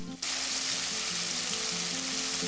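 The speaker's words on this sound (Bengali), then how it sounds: "দিয়ে দিচ্ছি ফ্রাই প্যানে এক এক করে দিয়ে দিচ্ছি অন্য চিকেনগুলোও" Chicken pieces dropped one by one into plenty of hot oil in a frying pan, bursting into a loud, dense, continuous close-up sizzle.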